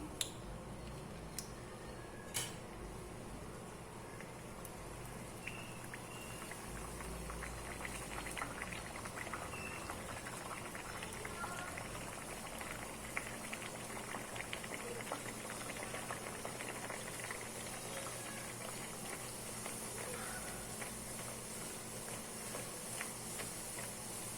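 Maida pooris frying in hot oil in a kadai, a continuous dense sizzle and bubbling crackle at moderate level, with occasional small pops and ticks and no talking.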